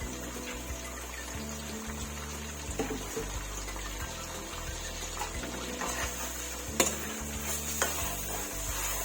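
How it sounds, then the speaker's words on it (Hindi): Onion and chili paste for chicken curry fries in a pan, giving a steady close sizzle broken by repeated scraping stirs and a few sharper clinks of the spoon. "अब इसे हम 5 मिनट तक तो ज़रूर भूनेंगे।"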